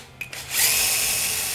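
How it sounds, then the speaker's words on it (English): A click and brief pause, then a power drill with a 3 mm masonry bit, percussion off, whirs up and runs steadily at high speed into tiles, close by. "So I'm just gonna drill in on the sides."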